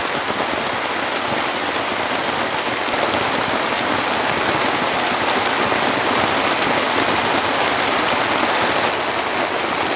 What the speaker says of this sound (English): This is the deluge I was expecting.